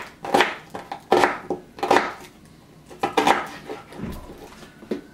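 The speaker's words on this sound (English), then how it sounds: "Quick dice." A knife quickly dices an onion on a cutting board during taco burger prep, a run of close, sharp chopping strikes in bursts with brief pauses.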